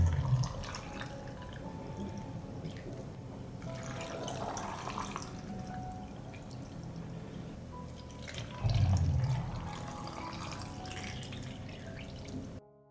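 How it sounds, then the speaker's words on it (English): Water pours and trickles into glass jars of sweet cherries being covered for preserving, a soft, steady close-up flow with a louder splashing surge near the end. "I pour water into the jars to cover the sweet cherries."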